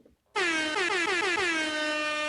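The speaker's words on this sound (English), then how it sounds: "Drop a air horn on that one." A loud, blaring air horn blast kicks in after a brief moment of quiet and holds steadily for about two seconds with a slightly wavering pitch.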